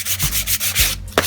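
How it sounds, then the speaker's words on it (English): Light hand sanding over a painted wooden coat rack, a soft buffing pass rather than hard stripping: steady rhythmic rubbing strokes, close and fairly loud, with short pauses between passes and no talk. "And you don't need to do a hard sanding"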